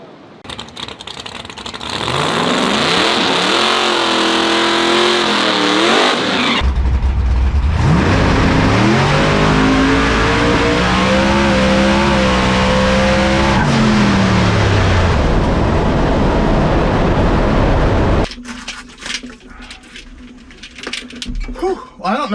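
A supercharged Hemi-powered Ford Mustang drag car on a test run roars loudly as it accelerates hard through rising gear pulls for about fifteen seconds, then cuts off to quieter surroundings where a voice speaks.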